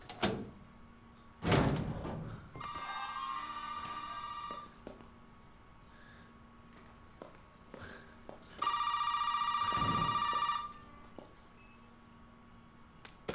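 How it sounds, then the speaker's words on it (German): An old-style telephone rings in Resident Evil 7, two long electronic ringing bursts separated by a pause, with a thud and faint footsteps and room noise around them, no speech. "Telefon."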